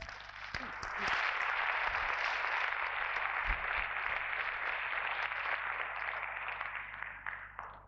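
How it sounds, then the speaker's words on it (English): Audience applause for doctors at a TEDMED talk in Kasr Al-Ainy: a steady, dense wash of many hands clapping that swells in after a second, holds for several seconds, then begins to thin toward the end. "So please give them a round of applause."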